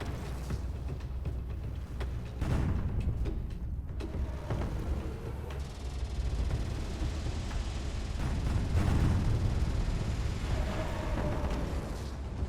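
A Sharon weapon firing in Space Engineers, heavy booming blasts and rumbling bursts over a dense, continuous roar of battle noise, loud and sustained throughout.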